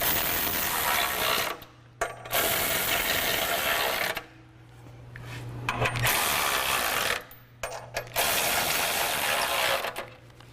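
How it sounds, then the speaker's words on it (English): Ratchet tightening bolts on a Go Rhino front bumper being fitted to a Jeep Wrangler JK, long bursts of dense rapid clicking broken by short pauses, close and steady. "Then you want to tighten the bolts on the side."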